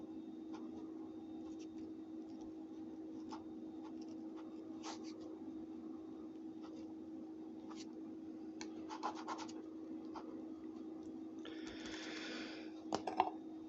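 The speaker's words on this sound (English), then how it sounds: "Let me write that down here" A pen scratches on paper in short, faint, intermittent strokes as tasting notes on a corn whiskey are written down, over a steady low room hum.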